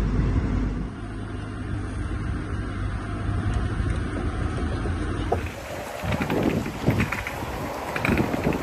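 Wind gusting across a house fire in Laredo, Texas, a steady broadband rush buffeting the microphone, with a louder, rougher burst of gusts in the second half.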